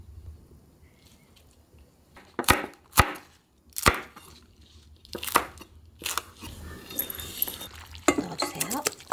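A knife chops vegetables for sujebi on a cutting board, giving sharp, separate knocks at an uneven pace, close and fairly loud, followed by a busier patch of rapid cuts and clatter.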